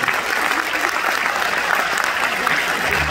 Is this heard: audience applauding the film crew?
yes